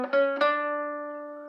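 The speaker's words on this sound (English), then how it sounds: "This is an acoustic guitar." An acoustic guitar sounds two quick plucked notes, then lets them ring. They decay slowly as a clear, close sustained tone, with no voice.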